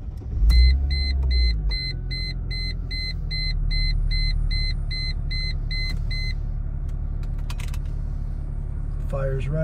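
A Mercedes SLK32 AMG engine idling after starting, a low steady rumble while a dashboard chime beeps repeatedly for the first several seconds, with a voice speaking over it.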